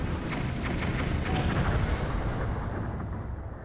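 A bomb explodes in the video game Zelda: Twilight Princess HD with a loud, broad rumbling blast that rolls on for a few seconds and then fades out, with no talking.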